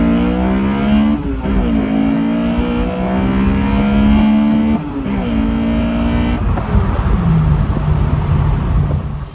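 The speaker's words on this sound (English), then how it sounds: "hear the instant response of this car" A Honda S2000 in Assetto Corsa EVO accelerates hard in first gear, its engine note climbing steadily in a loud, close, high-revving wail, with brief dips at throttle changes, and no talking.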